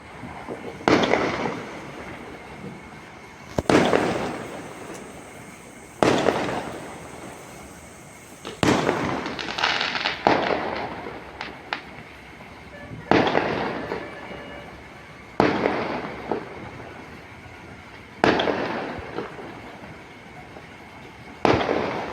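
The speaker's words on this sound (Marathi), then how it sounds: "चला गच्चीवर जाऊया खूप फटाके फुटत होते" Diwali firecrackers and fireworks burst one after another across a city in Nanded, heard from a rooftop. Sharp cracks and booms come at irregular intervals of a few seconds, each fading into a rumbling echo, with no talk.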